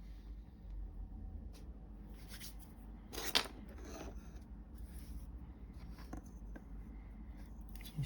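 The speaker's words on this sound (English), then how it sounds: "So let's cut this template out." Scissors snip through a paper template for a miniature table build, a few short close cutting strokes and rustles of paper in a quiet room.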